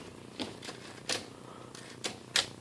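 A 1954 Olympia SM3 manual typewriter being worked by hand, with a handful of separate mechanical clacks and clicks spaced irregularly over a quiet room background.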